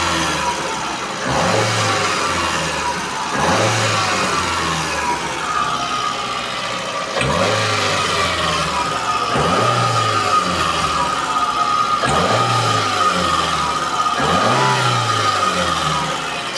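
A Daewoo Matiz engine, set up to run on gas and petrol, is revved repeatedly in a steady rhythm, each rise followed by a fall back to idle, loud and close, about seven revs in a row.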